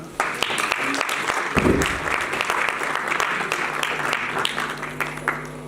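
An audience at an international engineering students conference breaks into a round of applause, a dense steady clatter of many hands close by, with a voice briefly heard over it.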